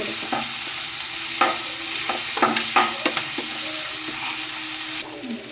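A spoon stirs tomatoes, onion and turmeric frying in a pan for prawn roast, with steady close sizzling under a run of distinct scrapes and taps against the pan, no voices.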